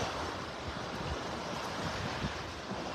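Gulf of Mexico waves break on a beach in North Naples, Florida, a continuous soft wash of surf mixed with breezy wind noise, steady and fairly faint.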